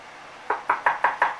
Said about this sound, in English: You just knock, that's all you gotta do.